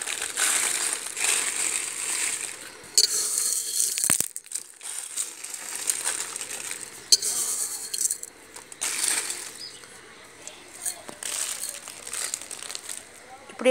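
About a kilo of salt is poured by hand onto an erukku plant, giving a gritty crunching, rustling hiss in repeated bursts that stop and start, with short pauses between pours.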